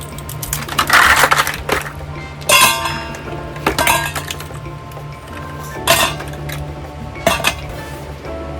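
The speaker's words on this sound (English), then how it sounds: "we're gonna take our shaker, and we're gonna fill it with ice" Ice cubes dropped into a metal cocktail shaker for a margarita: loud, close clattering bursts of cubes striking metal, in several separate scoops with brief pauses between, and no talking.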